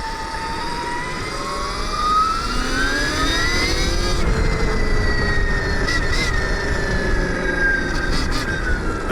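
A Stark Varg EX electric dirt bike, an 80 HP model, on mode 5 as the throttle is twisted: a loud, close, rising electric motor whine climbing in pitch, with wind noise underneath.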